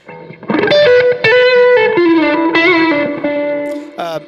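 Electric guitar chords played through a PRS MT100 amp with the gain up, gritty and sustained, with several strummed changes ringing out loudly and a brief pause near the end.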